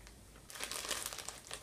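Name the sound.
crinkling open a bag of chip-like candy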